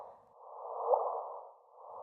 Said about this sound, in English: This is the sound of colliding neutron stars.